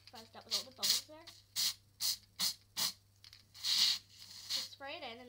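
Several short bursts of hissing hairspray sprayed into a bottle, repeated in a steady rhythm, interleaved with a person talking close by.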